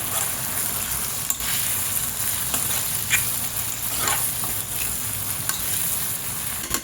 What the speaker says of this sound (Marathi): यामध्ये आता आपल्याला घालायचं आहे बारीक चिरलेला टोमॅटो व्यवस्थित मिक्स करून घेऊया